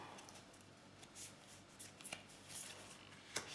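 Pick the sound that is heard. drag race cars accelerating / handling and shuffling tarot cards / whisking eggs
handling and shuffling tarot cards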